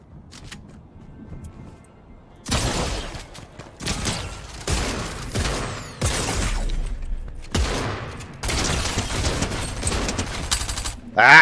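Gunfire in the video game Fortnite: loud, repeated bursts of shots and single booming blasts, broken by short quiet gaps, with a sharp report at the very end.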